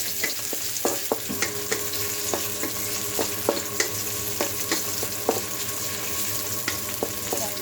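Garlic, onion and ginger sauté in oil in a pan for a sardine kare-kare dish, a steady soft sizzle broken by frequent clicking and scraping stirs of a utensil, close and continuous.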